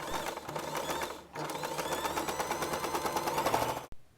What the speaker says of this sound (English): Secure the fabrics by sewing a straight line down the middle.